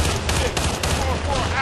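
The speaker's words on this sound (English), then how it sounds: "Taking fire from hostile armor" Gunfire fills a battle in the video game Battlefield: Bad Company 2, a dense, loud, continuous crackle of rapid shots and blasts that runs without a break.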